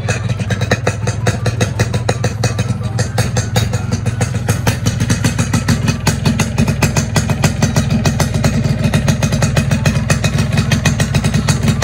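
A Yamaha RX King motorcycle idles steadily after a full-wave rectifier fit, its engine a close, loud, continuous two-stroke putter with a fast, even pulse throughout.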